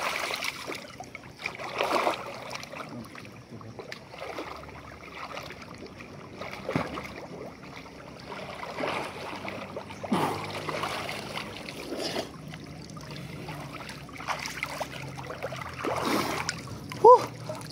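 Water flows and splashes in a provincial river, a faint steady trickle with occasional splashes, heard under people talking.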